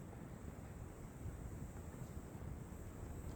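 A low, steady rush of wind gusts across a porch, faint and continuous with no clear let-up.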